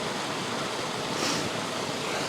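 Water running through rock pools at Kiamba, a steady, even hiss of flowing water heard from nearby, faint and unbroken with no other sounds over it.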